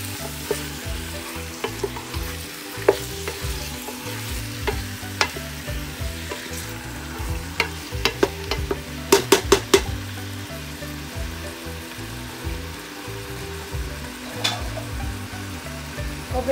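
Chicken for tinola sizzles loudly in a pot while being stirred, with steady frying crackle and repeated scraping and clinking of the spoon against the pot, including a quick burst of clinks partway through.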